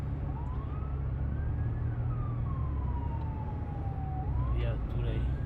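Police vehicle siren wailing in a slow rising and falling sweep over heavy road traffic rumble, fairly close and loud, with a quick yelp at the end.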